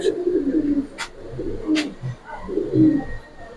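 Racer pigeons, silver-plumaged birds, cooing in low throaty bursts close by, several soft rolling coos packed into a few seconds, with a couple of brief sharp clicks or flutters between them.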